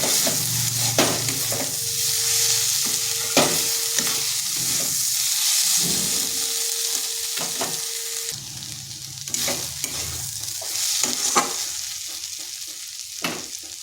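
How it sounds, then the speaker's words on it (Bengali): Boiled potatoes and onion stalks fry in a pan with a steady, close sizzle, broken by repeated stirring scrapes and clatters of a utensil against the pan throughout, with no voices. "এটা একটু সময় নিয়ে ভাজতে হবে।"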